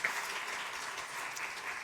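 A church congregation claps to welcome returning guests at a Sunday worship service, a steady, dense wash of applause lasting the whole moment without pause.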